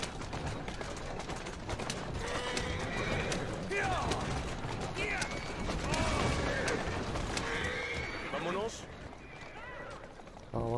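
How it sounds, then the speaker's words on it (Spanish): Horses whinny and neigh several times in a busy scene from the video game Assassin's Creed Syndicate, the calls mixed with hoof clatter, gunfire-like bursts and ongoing background talk. "Caballos"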